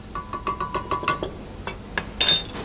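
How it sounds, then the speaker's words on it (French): A whisk works carrot purée into a reduced wine sauce in a pan, making a quick run of light metallic clinks against the pan, then a short pause and a few brighter taps. "nous l'incorporons avec l'aide d'un fouet"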